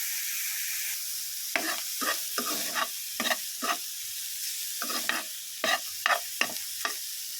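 Boiled pork and garlic frying in a pan, a steady sizzle broken by repeated bursts of spatula stirring and scraping, close and alone without voices.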